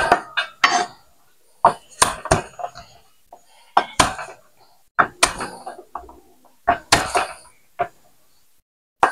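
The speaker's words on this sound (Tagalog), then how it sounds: "yung ating camera, ating cellphone bumagsak" A cellphone used as a camera falls during cooking prep in a home kitchen, landing with sharp clattering knocks among scattered clinks of pots, dishes and utensils, several loud impacts spread irregularly across the scene with no talk.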